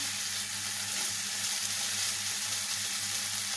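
Potato and papaya curry sautéing in a pan gives a steady, close sizzle that holds evenly through the whole stretch with no voices over it.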